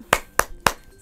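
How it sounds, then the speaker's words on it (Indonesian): Three sharp, evenly spaced hand claps ring out close and loud with short gaps between them, a rhythmic spirit clap from an online kindergarten class. "Yuk, tepuk semangat."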